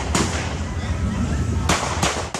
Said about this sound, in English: capturing the sound of gunshots